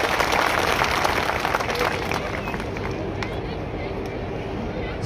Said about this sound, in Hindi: एक बार जोरदार ताली इन साथियों के लिए मिलता है।